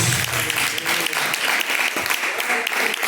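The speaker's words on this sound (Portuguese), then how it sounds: "glorifiquem a Deus com as palmas bem fortes para Jesus" A church congregation claps loudly and steadily for about three seconds during a worship service, a dense, sustained burst of applause filling the room.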